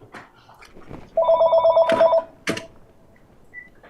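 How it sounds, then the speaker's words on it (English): A telephone rings once in a single bright, steady burst of about a second, partway through a presentation, followed by a couple of sharp clicks and then quiet room tone. "Of course, the phone rings."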